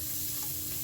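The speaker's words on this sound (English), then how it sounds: "I'm going to saute this for about 5 minutes." Onion sautéing in a pot for venison stew, a steady close sizzle that fills the whole short moment with no pauses.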